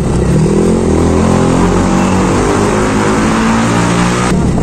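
A motorbike rides on an Indian road in traffic, its engine droning loud and close throughout, with rising harmonics suggesting steady acceleration and a brief dip near the end.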